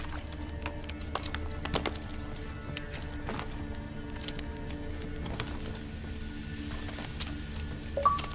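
Steady rain patters in The Witcher 3 game, with a dense wash of drops running throughout and scattered sharper ticks and taps rising above it.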